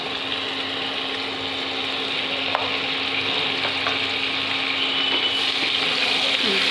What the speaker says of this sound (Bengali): এবার আমি এর মধ্যে বাটার দিয়ে দিলাম 1 চামচ আমুল বাটার